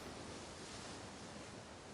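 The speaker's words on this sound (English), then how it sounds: "The sound of waves flows into my ears." Storm-driven ocean waves from the visual novel Umineko: When They Cry roar as a steady, dense wash of surf, loud and continuous with no pauses or voices.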